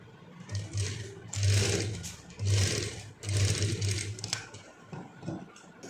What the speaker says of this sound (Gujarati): આ રીતે હવે બીજી બાજુ પણ આપણે એ જ રીતે સિલાઈ કરવાની છે.